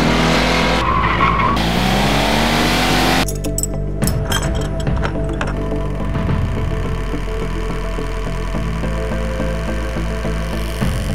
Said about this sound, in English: That rear engine, that mechanical sound, makes a very, very interesting noise.